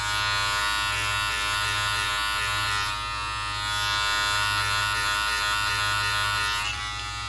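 Electric hair clippers fitted with a number one guard, lever open, buzz steadily and loudly for several seconds during a home haircut, with no talking.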